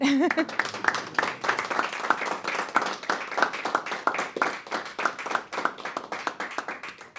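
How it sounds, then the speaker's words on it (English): An audience applauding a lecture speaker, steady dense clapping from a room of people sustained throughout, with a brief voice at the very start. "We'll have a round of applause for our speaker."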